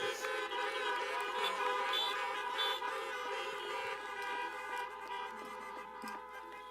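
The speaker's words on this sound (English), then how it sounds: "Please join me in honking your horns and flashing of your lights" Car horns honk together at a drive-in college commencement in 2021, a loud sustained chorus of overlapping toots and blares that gradually thins out.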